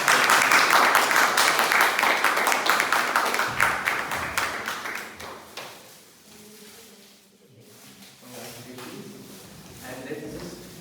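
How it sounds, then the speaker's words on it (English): An audience at a Toastmasters club meeting claps loudly, a dense round of applause that gradually thins out and fades as a speaker begins talking. "So with a big round of applause,"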